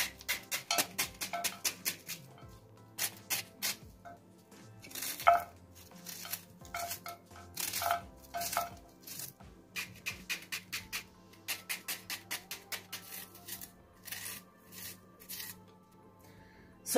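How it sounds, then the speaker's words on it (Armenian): A knife finely chops two small onions on a board for a pastry filling. Rapid runs of crisp, close taps are broken by short pauses, with no talking. "Առաջին հերթին կտրատում ենք սոխը, 2 փոքր գլուխ սոխ եմ վերցրել"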